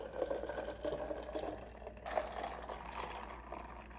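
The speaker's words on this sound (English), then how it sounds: "Adding ice to my pitcher, and I'll be adding in 1 liter of water in parts" Water poured into a pitcher of ice, a continuous faint splashing and trickling flow with small clinks, quiet and close with no talking.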